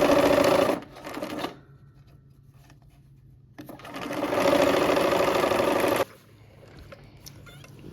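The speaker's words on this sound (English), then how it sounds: "We'll go ahead and put a pin in that, nesting those seams, and we'll sew that together" Sewing machine stitching quilt four-patch pieces: two loud, close bursts of rapid mechanical whirring, a short one then a longer run of several seconds, separated by a quiet pause.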